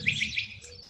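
A small bird in a desert setting among saguaro cacti gives a quick burst of high, thin chirps, fairly faint and heard over soft background hiss.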